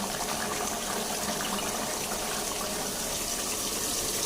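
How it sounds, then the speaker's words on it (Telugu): A continuous, even rush of water pouring steadily into a pot of chicken biryani, close and fairly loud, with no voices. "దీంట్లో వాటర్ అయితే పోద్దాం"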